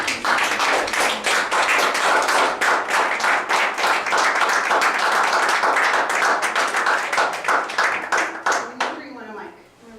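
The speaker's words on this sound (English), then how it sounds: "give my son a really big applause and welcome him to the room" A room full of people claps loudly for a son being welcomed in, with dense, rapid applause that keeps going for about nine seconds before it thins out and stops near the end.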